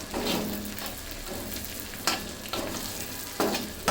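Garlic and chopped onions fry in a pan for Bihari chicken, a close, continuous sizzle with a few sharper stirring scrapes spaced through it; no speech.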